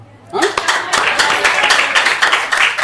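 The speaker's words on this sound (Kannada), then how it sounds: "ಇವರ ಅಮ್ಮನಿಗೆ ಕೂಡ ನಾವು ಚಪ್ಪಳೆ ತಟ್ಟೋಣ" An audience applauds, a burst of dense, close clapping that begins after a short pause and continues steadily with speech mixed in.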